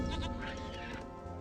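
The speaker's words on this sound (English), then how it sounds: "He does kill the goat there." A goat in the Age of Empires 3 strategy game bleats with a loud, wavering cry over steady in-game background sound.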